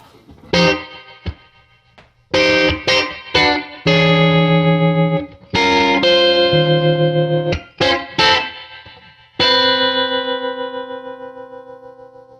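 Distorted electric guitar chords and notes ring out through a 1990 Fender Custom Vibrolux Reverb amplifier, each burst trailing off into a long, washy reverb tail between pauses.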